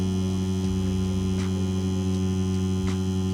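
Cheap beginner tattoo machine running steadily with a constant electric hum and buzzing tone, close and unbroken, with faint periodic ticks.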